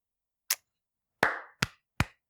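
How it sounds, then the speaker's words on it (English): Hands clapping over a Discord call: four sharp, separate claps, the second with a short ringing tail, heard alone against silence. "I don't know if you can hear it, but I'm clapping."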